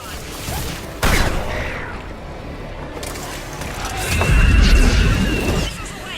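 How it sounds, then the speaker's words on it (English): Missile launches and explosions in the Mass Effect 3 video game, fought on Thessia: a sharp blast hits at one second, followed by rolling booms and a heavier, deeper rumbling burst toward the end, with game noise throughout. "Missiles away."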